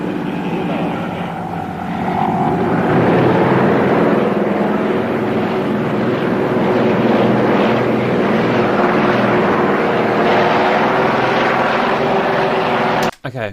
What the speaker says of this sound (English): We have here cargo plane doing wheelbarrow.